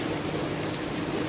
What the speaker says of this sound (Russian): Поэтому поснимаю дождь.